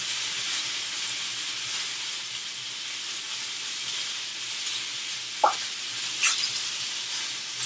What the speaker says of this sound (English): now what we are going to do is throw some butter in there